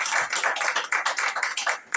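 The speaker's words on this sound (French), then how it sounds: "Nous applaudissons tous notre" Close, lively hand clapping from a small audience at an embassy launch event in Tokyo, a quick uneven run of sharp claps with a short lull near the end.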